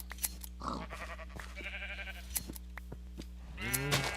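Sheep in the game Minecraft (Tekkit) bleat a few times at close range, with quiet game sounds in the background.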